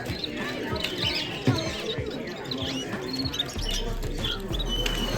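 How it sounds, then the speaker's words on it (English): Zebra finches and canaries chirp at an indoor bird fair, with thin, busy tweets scattered over a steady crowd murmur and nearby footsteps and knocks. "Zebra finches."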